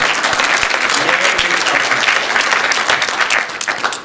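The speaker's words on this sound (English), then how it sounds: "give a good round of applause for all of them" Audience applause at a Disney New York Toy Fair 2014 event, a dense, steady wash of clapping from a large crowd that holds loud for about four seconds before easing slightly at the end.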